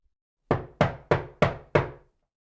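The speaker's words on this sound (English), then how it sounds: "a louder knock interrupted me" Five loud, evenly spaced knocks on a door in quick succession, each with a short hollow decay, in otherwise quiet surroundings.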